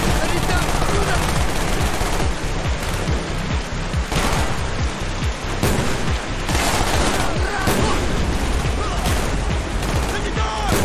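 Heavy, continuous gunfire from the video game Call of Duty Black Ops, with rapid automatic bursts and booming shots that fill the whole stretch, loud and close, with voices shouting now and then.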